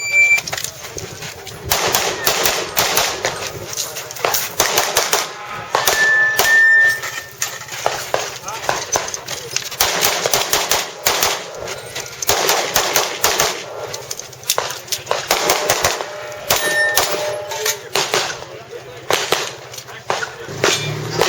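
Rapid gunshots ring out on a shooting competition stage, sharp close cracks fired in quick strings and bursts with brief pauses, some with metallic clangs of steel targets.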